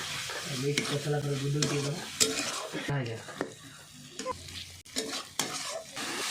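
Food stirred and mixed in a hot pan for a sweet Odia dish, with close scraping strokes and clatter over a sizzling background, while a person talks at times.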